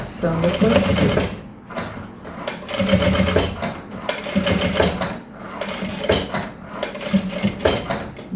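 Sewing machine stitching bias binding onto a small fabric travel case, a steady close needle rattle in short runs with brief pauses, a voice talking over it.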